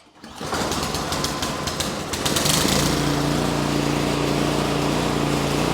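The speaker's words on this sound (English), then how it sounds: "I want to go ahead and start the machine up" A snow thrower's small engine starts up and settles into a steady, loud, buzzing idle that runs on without a break.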